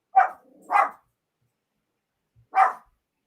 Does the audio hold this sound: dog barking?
yes